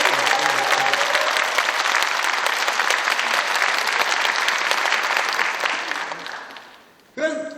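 An audience at a lecture on the history of Jinju breaks into loud, sustained applause that fills the hall, then tapers off and fades near the end before a brief new sound cuts in.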